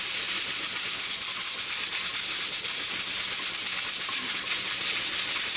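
A pressure cooker vents steam in a continuous bright, loud hiss that holds steady throughout, with no talking.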